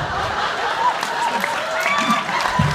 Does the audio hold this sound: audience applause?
yes